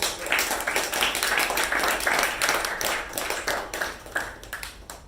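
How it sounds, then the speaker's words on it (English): Toastmasters club meeting audience claps steadily for the President Toastmaster, a moderate, fairly close patter of hands that thins out toward the end. "Can we have a round of applause for the President Toastmaster?"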